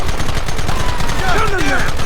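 Rapid, loud gunfire in Red Dead Redemption on Xbox One, a dense burst of repeated shots throughout with a faint whistling ricochet partway through.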